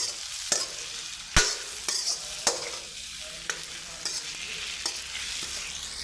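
A drumstick (shevga) fry being stirred in a pan after salt and a pinch of sugar go in, with several sharp scraping strokes of the spoon over a soft, steady sizzle, close and fairly quiet, with no talking.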